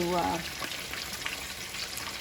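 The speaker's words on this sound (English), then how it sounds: "I like to fry them on medium heat so they don't burn" Pork tacos dorados fry in a pan over medium heat, a steady, fine crackling sizzle heard close up, with a short burst of voice at the start before the frying carries on alone.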